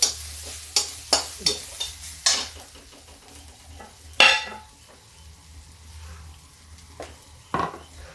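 Onions frying in oil in a pan sizzle steadily up close, with a quick run of spatula scrapes and clinks at the start and a few louder stirring bursts later, with no voices.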